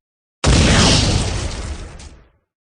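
A single loud, close cannon blast fired from a sailing warship in a naval battle against pirates: one sudden broad boom that rolls off over about two seconds, with no voices.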